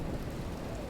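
Rain pours in a steady, dense hiss under a low thunderstorm rumble in the video game Life is Strange, with no talking.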